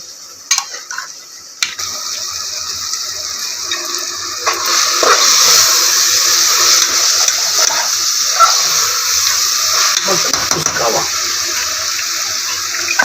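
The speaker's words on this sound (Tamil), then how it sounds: "இந்த தண்ணியே கொஞ்சம் ஊற்றிக்கலாம்" Cooking water being poured into a pot of mutton curry, a steady splashing pour with faint kitchen clatter, growing fuller and louder midway and continuing to the end.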